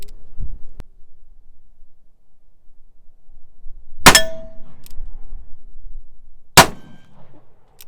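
Two sharp, loud gunshots from a Dance Brothers "Old Silver" black powder revolver ring out several seconds apart, each with a brief metallic echo, with quiet pauses around them.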